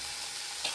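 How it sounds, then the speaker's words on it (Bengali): Tomato, onion and garlic frying in a pan with salt and turmeric, giving a brief, even, hissing sizzle close by with a small scrape near the end and no talk. "টমেটো পেঁয়াজ রসুন সুন্দর ভাজা হয়ে গেছে"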